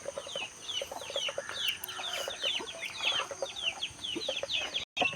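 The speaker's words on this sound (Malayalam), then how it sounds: "എൻ്റെ കോഴിക്കുഞ്ഞുങ്ങൾ" Many chicks peep in high, rapid chirps throughout, with occasional soft clucks mixed in, a busy continuous chorus close by.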